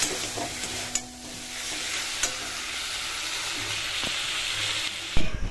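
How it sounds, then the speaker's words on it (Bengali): Elephant foot yam stalks sauté in a pan, a steady frying hiss with occasional stirring clicks and scrapes, a louder clatter near the end, no talking. "তো চলো এখন এটাকে আমি ভালো করে কষিয়ে নিই।"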